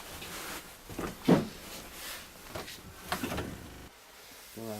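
An old door on an abandoned passenger train is held and shifted, giving scraping, sliding and knocking noises in several uneven bursts, one louder thump near the start and a rattle at the end.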